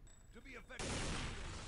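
Gunfire and explosions in the video game Counter-Strike: Deleted Scenes erupt suddenly after a brief stretch of speech, a loud dense burst of shots and blasts filling the rest of the moment.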